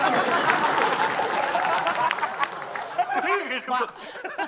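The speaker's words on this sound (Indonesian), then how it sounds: "Kita kasih tepuk tangan dulu." Studio audience applause at an Indonesian game show as the final scores are about to be read, dense clapping mixed with chatter and chuckles, thinning toward the end as voices come through.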